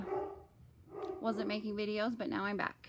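A Great Pyrenees dog barks and yips in the background, mixed under a person talking over an indoor sewing session, with a few short bursts.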